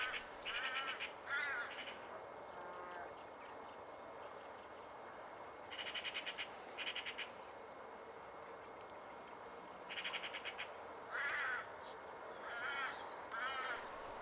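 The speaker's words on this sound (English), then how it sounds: "you can still hear the other one cackling away in the background with his magpie feather" Harsh, chattering magpie calls come in short bursts, several repeated rounds separated by pauses, over a steady hiss of insects in the background.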